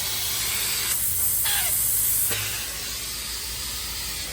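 Compressed gas hisses as refrigerant lines are back-blown during a freezer rebuild, a loud steady rush with a couple of brief shifts in the stream, close by and with no voices.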